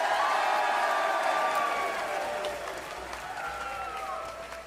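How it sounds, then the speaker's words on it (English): A school concert crowd of students and parents cheers and applauds in a loud, sustained wash of clapping and shouts that eases off slightly midway but keeps going. "Let's cheer for your parents"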